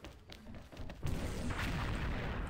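Gunfire in the video game XSHOT: a heavy boom hits about a second in and leaves a dense, loud, rumbling wash of shots and blasts.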